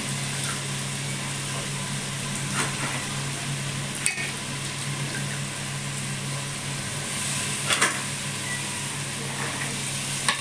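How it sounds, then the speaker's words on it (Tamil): Chopped vegetables and peas sauté in oil for vegetable rice, a steady broadband sizzle running throughout with a few faint stirring knocks, close and even, with no talking. "போட்டு நல்லா எண்ணெயில் ஒரு 5 நிமிஷம் வதக்கி வேக வைக்கணும்"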